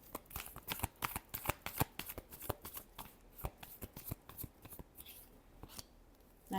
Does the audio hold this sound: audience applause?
no